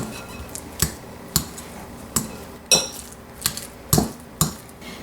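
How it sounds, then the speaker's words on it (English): A big fork mashing avocado with Parmesan, black pepper and seasoning in a bowl, giving several sharp clinks and scrapes at irregular intervals, close and moderately loud with no talking. "we'll take a big fat fork and mash it all together so it gets nice and creamy"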